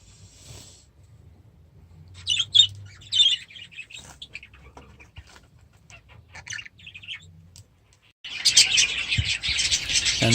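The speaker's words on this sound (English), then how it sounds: "this is some chicks from one nest, one of the only 2 that has chicks" Budgerigar chicks from a nest cheep and squawk in short scattered bursts, fairly faint at first, then a louder, denser run of chirping near the end.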